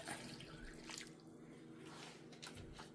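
Freshly blended carrot, fresh turmeric, ginger and orange juice being strained through a sieve, giving a faint, steady dribble and drip of liquid close by in a quiet kitchen.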